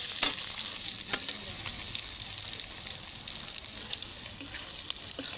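Potatoes frying in hot oil in a pan for a fish-head curry, a constant bright sizzle with a few sharp clinks as they are stirred, close up and with no talk.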